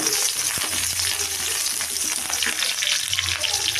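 Onions, curry leaves and slit green chilies fry in hot oil for a chicken pepper fry, giving a steady close broadband sizzle with faint stirring clinks and low hum underneath, no talk.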